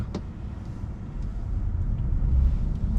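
A 2022 Kia Niro Hybrid's combustion engine kicking in while driving, a low rumbling drone that grows gradually louder under steady road noise inside the cabin.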